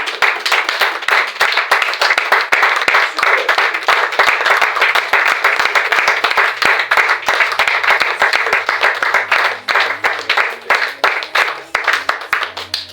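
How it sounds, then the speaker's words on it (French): A church congregation claps and cheers for the Lord, a loud, rapid stream of hand claps that stays steady and then thins into more spaced-out claps toward the end. "Les acclamations pour le Seigneur."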